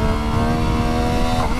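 Engine of a 2021 MV Agusta Dragster 800RR motorcycle fitted with a quick shifter blipper, a loud, steady droning drone with dense harmonics, held close and continuous, with a slight shift in pitch near the end.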